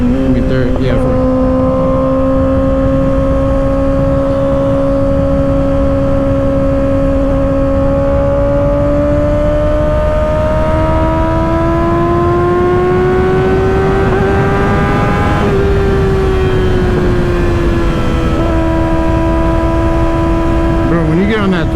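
A 2024 Kawasaki ZX-6R with an M4 exhaust accelerates on a freeway, its engine note climbing steadily and loudly with a shift or two, under heavy wind roar and a rider talking.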